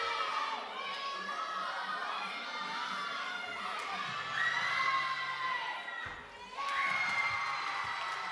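Teammates cheering a gymnast through her uneven bars routine at a women's college gymnastics meet, loud excited shouts and whoops from a group in an echoing arena, with brief dips between bursts.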